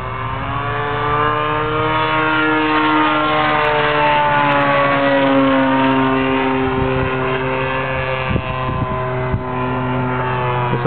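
A gas-powered DLE-30 engine on a 70-inch 3DHS Slick RC plane drones loudly through a low pass, its pitch gliding steadily up and down as the plane sweeps by.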